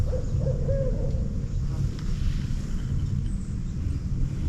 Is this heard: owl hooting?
yes